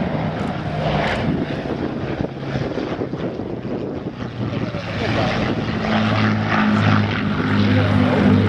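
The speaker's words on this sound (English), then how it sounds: "The wonderful Avro Lancaster from the Battle of Britain Memorial Flight based up at Coningsby." Avro Lancaster bomber of the Battle of Britain Memorial Flight passing over the Duxford Flying Legends air show in 2011, its piston propeller engines a loud, sustained drone that swells toward the end, with wind buffeting the microphone.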